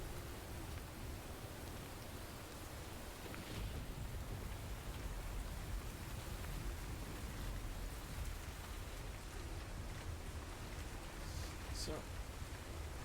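Steady, dense rain pours through a stormy night as a continuous hiss, with faint low rumbles and muffled voices murmuring underneath throughout.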